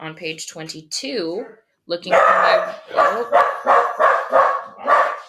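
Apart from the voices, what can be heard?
dogs barking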